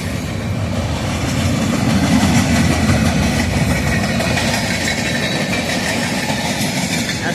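An evening southbound train rolls past close by, a loud continuous rumble of engine and rail cars with steady clattering from the wheels over the whole stretch.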